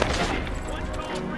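Gunfire in Watch_Dogs: a dense, continuous burst of loud shots filling the whole moment, with no clear gaps between blasts.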